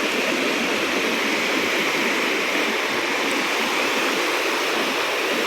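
Surf at Butterfly Beach in South Goa gives a dense, unbroken hiss and wash, steady and fairly loud with no distinct individual wave breaks.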